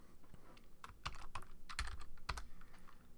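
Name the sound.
typing on a computer keyboard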